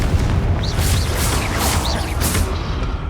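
A Confringo fire-spell blast from Hogwarts Legacy booms loudly and continuously, a thick low rumble with crackling bursts and brief higher whooshes, no talking.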